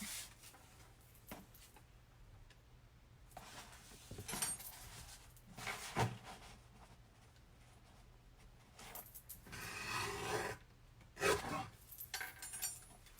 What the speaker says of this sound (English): I'm just going to trim this up real quick.